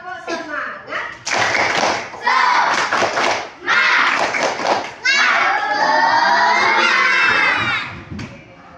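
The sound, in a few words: schoolchildren doing the 'tepuk semangat' clapping chant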